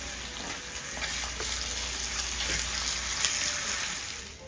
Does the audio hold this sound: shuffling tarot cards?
no